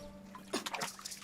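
Water leaking from a broken pipe floods a room at home, heard as a few brief splashing, trickling bursts over a quiet background.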